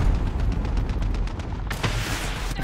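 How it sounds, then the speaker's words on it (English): A missile explodes in a video game, a loud rumbling blast that flares suddenly near the end over continuous low, heavy background rumble. "I was killed by a missile."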